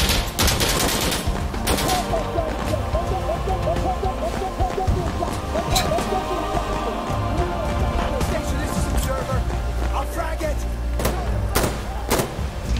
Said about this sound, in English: Bro, those rockets went right to my face.